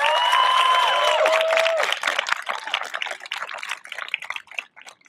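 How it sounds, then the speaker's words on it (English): An audience at a graduation ceremony claps for the parents, dense applause at first over a brief sustained tone, then thinning into scattered individual claps that fade out. "Can we have a well-deserved round of applause for our parents?"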